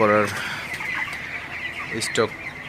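A flock of 26-day-old broiler chickens cluck and chatter softly, with a brief louder squawk at the start and scattered clucks after, while someone talks in the background.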